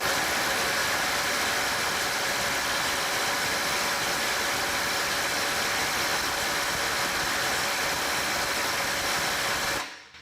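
A FLEX 24V quick eject impact driver on a 2.5 amp hour battery, fitted with a bigger socket and straining against a 500 foot-pound bolt, produces a loud, steady, continuous mechanical roar that runs unbroken for about ten seconds before stopping abruptly.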